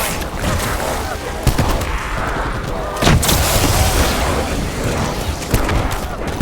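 Rapid gunfire in Black Ops 4 Zombies on the Tag Der Toten map, played on Xbox Series S: a dense, steady stream of shots with a few heavier booms, loud and continuous over game noise.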